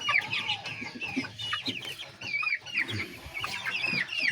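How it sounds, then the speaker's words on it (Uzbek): Several large roosters cluck and call back and forth nearby, with busy overlapping squawks and short crowing phrases that rise and fall throughout. "Katta davralarda davra suradigan xo'roz bo'ladi bular"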